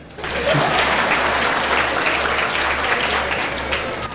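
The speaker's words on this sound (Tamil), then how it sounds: "அதுக்கு ஒரு கைத்தட்டல் கொடுங்க" A studio audience at a Tamil talk show breaks into loud, sustained applause that fills the whole stretch, dense clapping with a low hum underneath and no talking.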